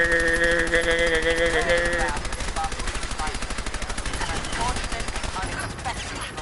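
Gunfire in Fallout 4 hammers out as a long rapid burst of automatic shots, loud and close, following a brief musical tone, with a voice speaking over part of it.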